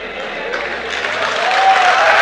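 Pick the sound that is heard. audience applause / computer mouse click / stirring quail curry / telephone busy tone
audience applause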